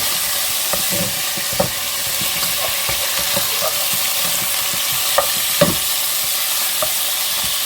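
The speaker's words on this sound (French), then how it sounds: "on va retourner les morceaux au fur et à mesure pour les faire dorer" Pieces of veal brown in a pan for blanquette de veau with a continuous close sizzle and frying hiss, broken by occasional soft clicks and scrapes as the meat is turned.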